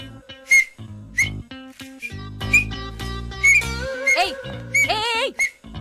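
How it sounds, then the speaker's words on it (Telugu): A person whistles a few wavering, sliding notes in short bursts, with voices talking and other sounds going on around it. "విజిల్ వేయడం నేర్పిస్తున్నా"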